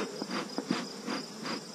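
Bees buzzing around an opened beehive during a hive inspection, a steady droning hum with pulsing swells as insects fly close past, no talking.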